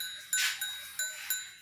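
Goats with their young kids, likely Rajan Puri goats at a farm in Dera Ghazi Khan, give four or five short, bright bleats in a steady sequence, close and fairly loud, with no talking.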